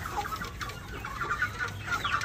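Desi chickens on a rooftop farm cluck repeatedly in short, close bursts, a busy overlapping chorus of hens with a steady low background hum.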